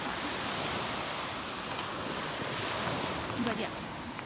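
Ocean waves wash onto a Sanibel Island beach at dusk, a steady broadband surf hiss with wind buffeting the microphone, continuous and fairly close, with no voices.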